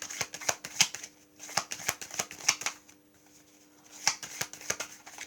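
Tarot cards shuffled by hand in a series of crisp riffling bursts and slaps, close and fairly loud, with a short pause midway before the shuffling resumes.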